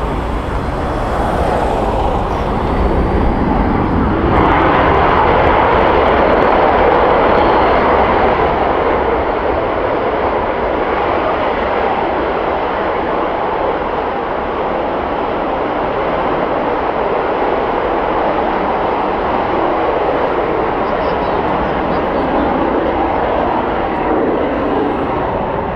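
A military aircraft on the runway at the RIAT Fairford airshow on practice day, a loud sustained roar of jet engines spooling up and building for takeoff, continuous and close for the whole stretch.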